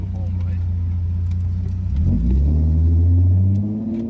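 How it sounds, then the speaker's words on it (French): A Ford Mustang sports car sits nearby with a deep, loud engine rumble that builds into a rev midway, while a person speaks over it. "Sa voiture, elle faisait un bruit."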